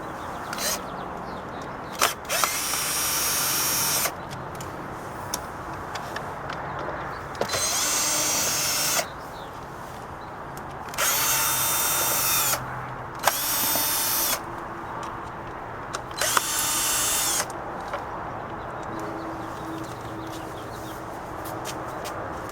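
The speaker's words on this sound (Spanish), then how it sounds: "Ya aflojé los tornillos, son tornillos que se pueden quitar con una punta de normal de cruz." A power drill drives out the six cover screws on a 2005 Kia Sorento, sounding in five or six bursts of a few seconds each, separated by quieter gaps with small clicks, heard close.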